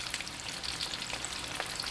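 Skinny shrimp spring rolls deep fry in hot oil, giving a dense, even bubbling sizzle that runs continuously and close by, with no one talking.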